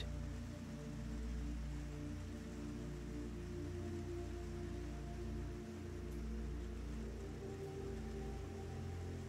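Steady rain falls outside a café in Lisbon, a continuous soft wash of drops with a low rumbling undertone, fairly faint and unbroken, with nobody speaking.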